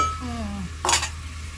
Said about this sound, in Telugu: ఇదిగోండి ములక్కాయ ముక్కలు కూడా వేసేసుకున్నాము ఒక్కసారి కలుపుకొని మూత పెట్టేసుకున్నాం